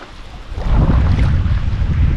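Gusty wind roars and rumbles in a microphone on a kayak on the Nemunas River, growing stronger after a moment, with a wash of water noise beneath it.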